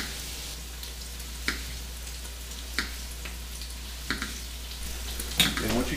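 Bacon frying in a pan beside cooking chowder, a soft steady sizzle with a few light taps and clinks scattered through, close but fairly quiet.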